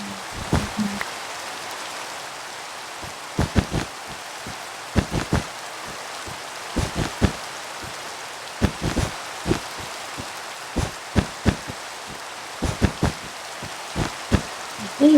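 Steady rain falling in the Minecraft video game, a soft continuous hiss broken by frequent sharp clicks and taps from in-game actions, with no talk.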